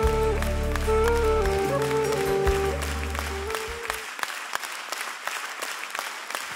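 A live audience at a Los Angeles concert of an Armenian song claps as the sustained music tones fade, leaving dense, steady applause from a crowd for the rest of the moment.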